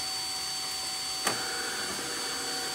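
A Delonghi Magnifica espresso machine grinds coffee at its number 7 grind setting with a steady, even motor whir. A single sharp click sounds partway through.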